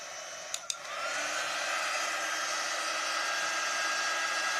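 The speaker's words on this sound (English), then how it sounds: "I'm going to go ahead and dry it with my heat tool." A heat tool used to dry paste on a transfer gives two small clicks, then a steady, loud blowing whir that continues unbroken to the end.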